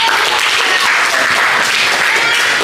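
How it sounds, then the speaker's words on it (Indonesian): A classroom of students bursts into steady, dense applause that fills the whole moment, loud and continuous, with no voices over it. "Oke, tepuk tangan."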